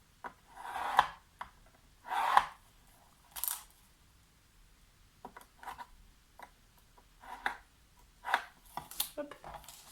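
Paper being scored along fold lines for a scrapbooking ticket booklet: several short scraping strokes, close and fairly quiet, with small taps and handling noises between them.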